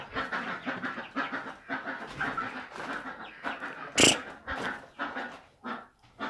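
Chickens clucking in a coop during daily farm chores, a busy run of short, close clucks and squawks in quick bursts, with one sharp louder call standing out midway.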